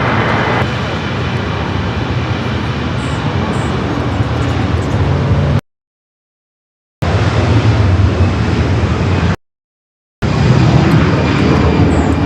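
An Airbus A330-200 from Honolulu comes in to land on runway 24 right at LAX, its engines a loud, steady roar close by, cut by two short silent gaps.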